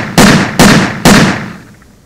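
Three loud, sharp .357 Magnum revolver shots ring out in quick succession in a film scene, each blast trailing a short echo before fading to quiet.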